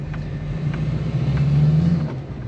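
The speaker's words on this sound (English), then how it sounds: "I can't get over the sounds duramaxes make" A deep Duramax diesel pickup engine rumbles steadily up close, swelling a little louder midway with a low, throaty drone.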